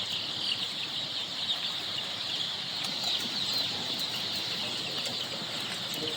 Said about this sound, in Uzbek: Tuxum va go'sht yo'nalishdagi jo'jalarimiz